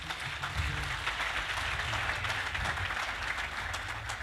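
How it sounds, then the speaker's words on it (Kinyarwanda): Sustained applause from a seated audience at a Rwandan talk show, a dense, even wash of many hands clapping at moderate distance for the whole stretch, with no voices. "ndimva nagira ngo mwongere mu mpera amashyi Afande"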